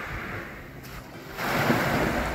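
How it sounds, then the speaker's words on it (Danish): Sea waves breaking on the beach at Nørre Vorupør, a continuous close roar of surf with wind, swelling louder in the second half as a larger wave rolls in. "der kommer nogle store bølger"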